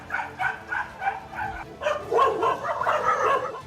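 A pack of colony dogs barks and yelps in a frantic, overlapping burst while fighting a leopard, the barking rising and thickening over a few seconds, close and loud with no talk.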